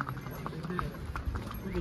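Horse hooves clip-clop in a steady rhythm along a cold, steep mountain trail on the Amarnath pilgrimage, close by, with a voice talking over them.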